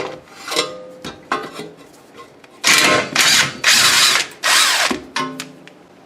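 Power tool spinning off a 17 mm crown nut atop the front control arm of a 2001 Lexus IS300, heard as several loud, close bursts of whirring and rattling, each lasting under a second, with quieter clicks and pauses between them.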